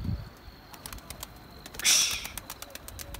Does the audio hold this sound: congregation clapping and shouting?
no